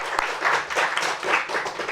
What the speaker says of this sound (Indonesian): luar biasa tepuk tangan dulu dong